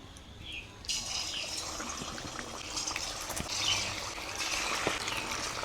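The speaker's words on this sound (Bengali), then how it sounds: "তেলটা গরম হয়ে গেছে, মাংসগুলোকে আগে ভেজে নেব।" Chicken pieces frying in hot white oil in a wok, a steady broadband hiss and crackle that swells a second in and carries on continuously at moderate volume, without talk.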